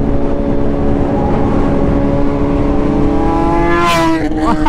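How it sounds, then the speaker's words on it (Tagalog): Super naked motorcycles rev their exhausts in a loud, close engine roar that climbs in pitch, with a sharp rising rev burst near the end. "ang mga tunog ng kanilang tambutso."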